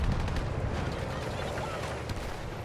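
A heavy booming tank cannon shot in Battlefield 6 rumbles beneath a busy mix of battle noise, with a few sharper cracks scattered through the steady din.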